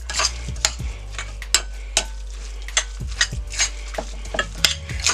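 Tuna salad stirred in a bowl with a utensil, giving repeated scraping and clinking strokes at an uneven rhythm, close and moderately loud, with no talking.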